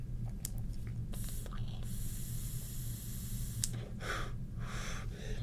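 Inhaling through an Anyvape Peakomizer vape with a Pro Tank 3, airflow turned down to 2: several soft, breathy hissing draws, close but quiet, over a low steady background hum.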